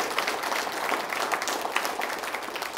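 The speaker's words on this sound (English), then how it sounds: "Let's give her a big round of applause." A room full of staff at an all-hands meeting breaks into steady applause, a dense patter of clapping that holds evenly throughout with no voices over it.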